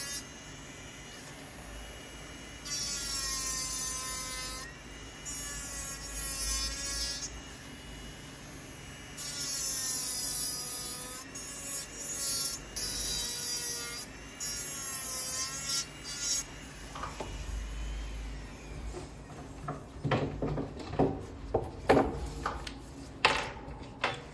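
A nail file rubs side to side around the tip of a nail in a run of scratchy bursts. The bursts have irregular pauses between them and give way near the end to lighter clicks and taps.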